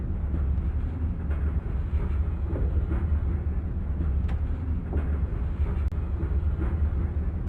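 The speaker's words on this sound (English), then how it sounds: "the Acela Express accelerates towards an upcoming 85 miles per hour speed limit zone" An Acela Express train in a train simulator game accelerates, a steady low rumble and hum with faint rail clicks, continuous and unchanging throughout.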